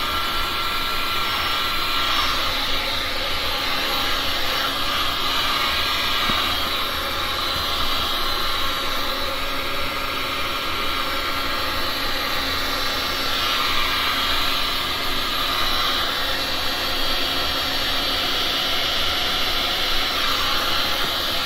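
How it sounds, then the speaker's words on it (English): Air gun blowing a steady, loud, continuous rush of air over a resin painting of a reverse dip flower, unbroken hiss and whoosh from start to end with no talking. "let me see what I can do with my air gun"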